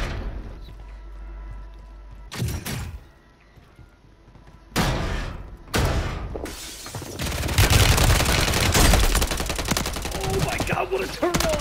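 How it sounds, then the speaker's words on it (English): Sniper rifle fire in a first-person video game shooter: a few sharp, loud single shots spaced seconds apart, followed by denser sustained gunfire and rumbling toward the end. "They're sniping me."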